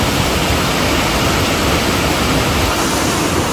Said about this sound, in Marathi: जोरात पाऊस.